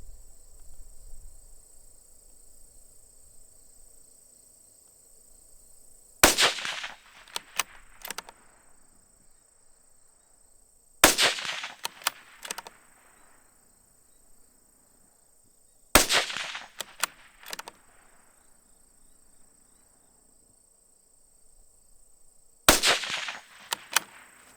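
Four sharp rifle shots from a Bergara BMR .22 WMR firing 30-grain rounds at a 300-yard target, spaced about five seconds apart, each a loud crack with a short echo, over a steady outdoor insect drone.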